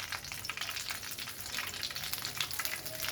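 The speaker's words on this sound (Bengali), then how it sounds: "এখন ওই তেলেই দেখেন আমি আরেকটু তেল দিয়ে দিয়েছি" Spices crackling and frying in hot oil, the same oil just used to fry rohu fish heads for a fish-head curry with tender bottle gourd; a steady, close, continuous sizzle with no talking.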